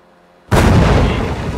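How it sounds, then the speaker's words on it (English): Renegade cannons firing in the video game Dying Light 2: after a near-silent moment, a sudden loud booming blast erupts and rolls on as a dense, rumbling roar of explosive noise. "Renegades and their cannons."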